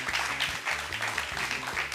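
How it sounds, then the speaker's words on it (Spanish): Steady applause and cheering from a TV studio audience fills the whole moment without a break. "por eso pido un fuerte aplauso"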